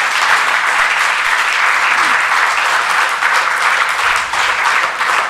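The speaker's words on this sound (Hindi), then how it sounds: "अभी आप तालियां बजाएं तो मुझे पता चले।" A lecture audience claps in unison on request, a loud, sustained and even burst of many hands filling the whole stretch without pause.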